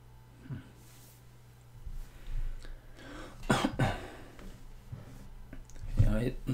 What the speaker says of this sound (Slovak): Ja zabudol som, že nemám kašľať.